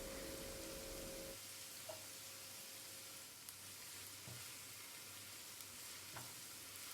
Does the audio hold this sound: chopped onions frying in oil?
yes